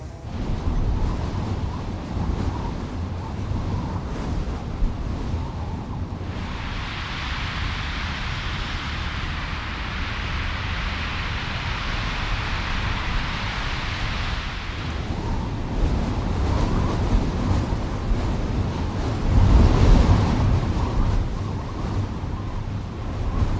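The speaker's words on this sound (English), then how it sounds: "I did take the opportunity though to record some of the gusty foliage and wind through the trees." Gusty wind rushes through trees and foliage in New Zealand, a broad, steady hiss that swells into a stronger gust in the middle and rumbles low again toward the end, with no voices.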